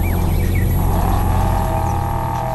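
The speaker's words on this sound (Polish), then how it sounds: "Ale ci turbo świszczy." A car's turbocharger whistles steadily in the Test Drive Unlimited racing game, a rising whine over a constant loud engine drone that continues without pause throughout.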